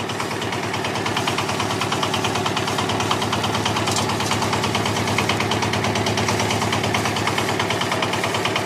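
Kurkure snack making machine running off an engine, a loud, continuous mechanical chugging with a rapid, even knocking rhythm that holds steady throughout, with no talk.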